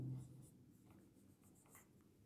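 Faint pen scratching on paper as a maths teacher writes out a triangle problem, soft, quiet strokes under a low background hum, with no speech.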